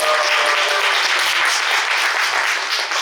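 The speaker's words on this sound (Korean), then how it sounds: "여러분 이럴 때는 박수 한번 쳐주세요." Steady, loud applause from an audience at an Incheon art association chapter president candidate debate, dense clapping filling the whole span without a break or voices.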